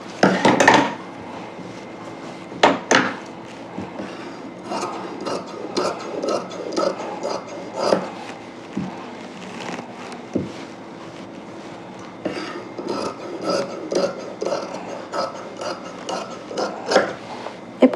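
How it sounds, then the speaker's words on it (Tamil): Scissors cutting through old saree fabric on a table, a close run of small snipping clicks and light thuds in uneven bursts with brief pauses. "இதை அப்படியே வந்து நம்ம கட் பண்ணி எடுத்துக்கலாம். கீழேருந்து அப்படியே கட் பண்ணிகிட்டே வரேன்."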